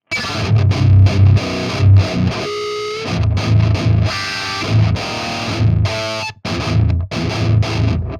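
Heavily distorted electric guitar through an amp simulator chugs through palm-muted riffs with ringing chords, loud and continuous, with brief drops between phrases.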